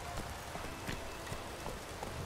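Horse hooves clopping at a steady gallop while riding through The Witcher 3 in rainy weather, a continuous rhythmic patter mixed with falling rain, moderately loud, with no talking.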